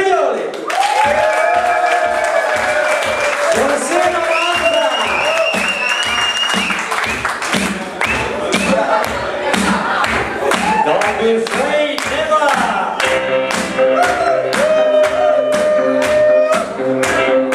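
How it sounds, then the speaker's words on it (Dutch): Applause and cheering from a live stage audience for Stefano Brignoli in Stompwijk, loud sustained clapping mixed with shouts and crowd voices, with music rising toward the end. "Heel veel applaus voor Stefano Brignoli!"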